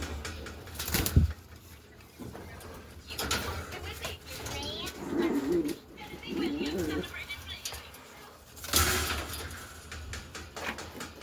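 Birmingham Roller pigeons coo softly in a loft amid a busy backyard, with wing flaps, rustling and children's voices talking over the birds.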